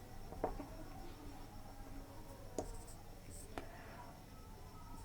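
Handwriting on paper for a maths lesson: faint, close scratching and a few sharp pen taps, quiet under a low background hiss with no clear talk.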